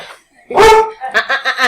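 A dog barks sharply once at close range, a loud harmonic yelp, followed by a quick series of shorter barks or yips in a busy indoor setting.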